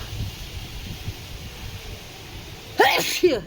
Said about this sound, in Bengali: এই আবার হাঁচি এলো।